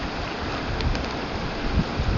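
A small waterfall in Cornwall pours with a constant, close, full rushing wash of water, steady and unbroken, with no voices.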